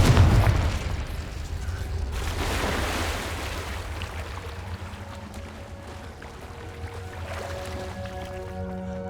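Confringo blasting curse exploding in a cave in Hogwarts Legacy, a loud opening burst followed by a rumbling blast and decaying crackle, with tonal magical shimmer ringing out at the end.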